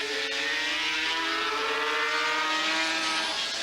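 Racing motorcycles at the 1984 Dutch TT at Assen accelerate hard out of a corner, a loud continuous engine howl with rising harmonic pitch that holds steady throughout.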